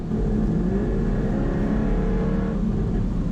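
A Jaguar F-Type R's powerful engine revs and roars steadily up close, its deep growl rising in pitch before settling, loud throughout.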